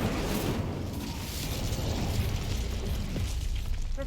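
Incendio fire spell in Hogwarts Legacy, a sustained roaring whoosh of flame with crackling bursts and a low rumbling body that stays loud and steady for several seconds.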